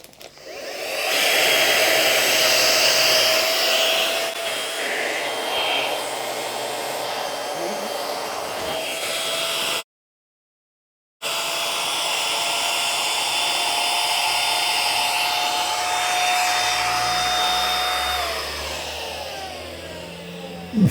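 Flextail Max Pump 3 portable air pump inflating, a loud steady whirring motor drone running for about twenty seconds with a brief pause partway through, its pitch rising slightly as the item fills.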